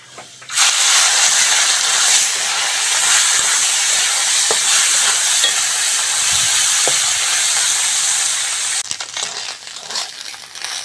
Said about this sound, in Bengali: বাকি মাছগুলো এইরকম ভাবে ভেজে নেব